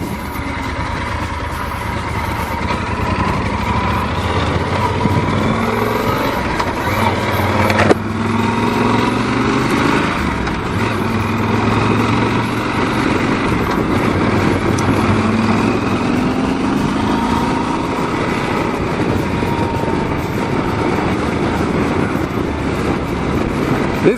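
A Yamaha XT 1200 Super Tenere motorcycle underway, its engine droning steadily and loudly throughout, with rising and falling pitch sweeps as it shifts and accelerates, mixed with wind rush.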